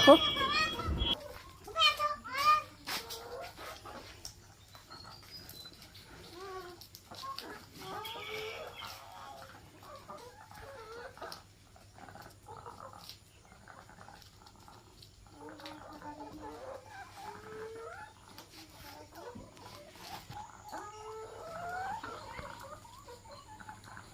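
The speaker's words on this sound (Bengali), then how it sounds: "সাফা কিভাবে মুরগিকে খাদ্য দেয় এবং কিভাবে পরিচর্যা নেয়" Backyard chickens peck and cluck softly while being fed greens, leaves and grass, faint scattered clucks and patter spread across the clip under a person talking nearby.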